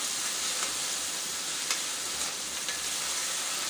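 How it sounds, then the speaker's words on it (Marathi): Chopped tomato and onion sauté in a hot pan, giving a steady, even sizzle with soft crackles throughout, close and alone with no talking. "टमाटरसुद्धा छान असा मऊ साफ शिजेपर्यंत आपल्याला परतून घ्यायचा आहे"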